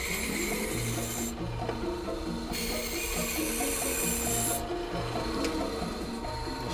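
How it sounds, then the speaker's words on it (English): A rasp or file scrapes steadily over a piece of pine being shaped into a horn, giving a continuous close rubbing texture with no pauses. "We're going to shape a piece of pine to the shape of the horn."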